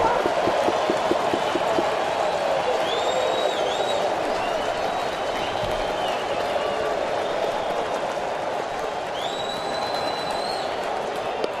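A Tigers baseball crowd at the stadium for an ALDS playoff game stands and cheers, a dense, sustained roar of applause and shouting with faint whistles rising above it.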